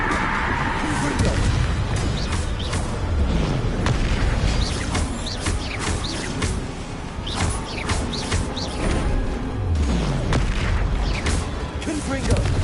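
Confringo, an explosive spell cast repeatedly in Hogwarts Legacy on PS5, goes off as a string of loud booming blasts over dense, continuous game noise.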